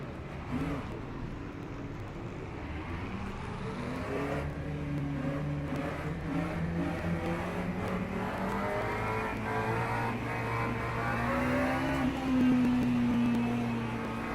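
Race cars on the formation lap in Le Mans Ultimate, one engine droning close with steady, gradually rising pitch as it accelerates through gears, other cars audible behind, no talk.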